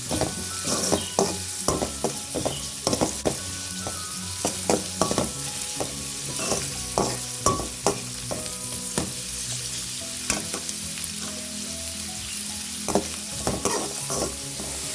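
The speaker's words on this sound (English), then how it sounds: "Fry the onions." Onions sizzling in a hot pan for a mutton and cabbage dish, a constant crackling fry broken by frequent sharp clacks and scrapes of a spoon stirring against the metal, close up with no speech.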